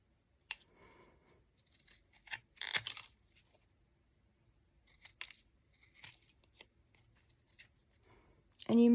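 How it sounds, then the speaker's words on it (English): Scissors cut through two stacked layers of chipboard in short crunchy snips, scattered across the stretch with a denser cluster midway, close and fairly quiet, followed by a louder thump at the end. "If you cut through both layers like this, then your pieces will be very smooth on the edges"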